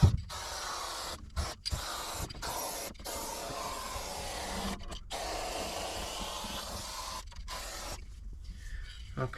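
Protective coating is sprayed from a can into the body seams of a Mercury Cougar Eliminator. It makes a close, steady aerosol hiss in repeated bursts, broken by short pauses where the nozzle is released.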